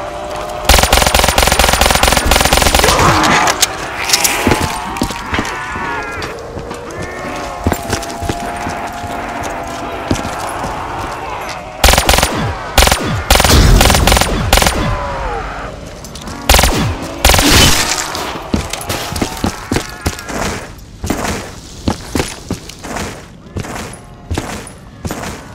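Fast automatic fire from the RK5 (Rex Kalibur 115) pistol with no attachments in a zombie shooter game crackles in repeated rapid bursts, loud and close, mixed with game effects and some talk, with shorter sporadic shots toward the end.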